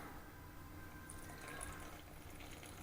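Water runs and pours steadily into a bowl of flour, salt and butter while dumpling dough for Dominican dumplings is prepared, a soft continuous splashing hiss throughout.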